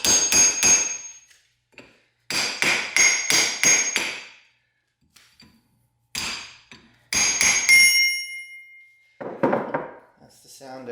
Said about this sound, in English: That's the sound of ring gear separation.